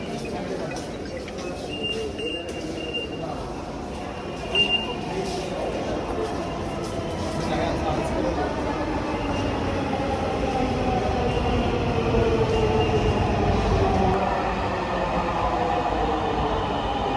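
A Dhaka metro train running, heard as a steady, fairly loud rumble and rolling roar that swells slightly toward the end, with faint voices mixed into the carriage noise.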